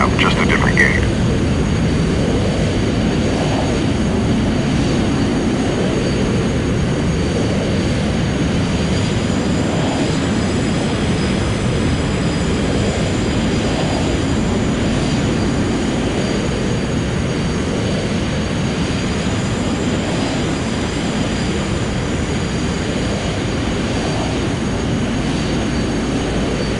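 Jet airliner taxiing in Microsoft Flight Simulator, a steady continuous engine roar and whine held at even loudness throughout, with no talk.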